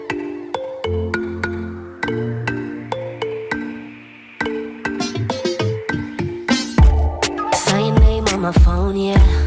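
A mobile phone rings with a bright melodic ringtone, repeated chiming notes that start sparse and grow busier and louder toward the end, heard alone and close.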